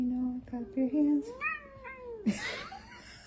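A cat gives several wavering, drawn-out meows, close and fairly loud, followed by a burst of noisy sound.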